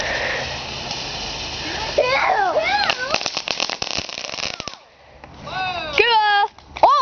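Fireworks and cherry bombs go off outdoors in a run of sharp crackling pops and bursts, with whistling squeals rising in between, while people's voices are heard close by.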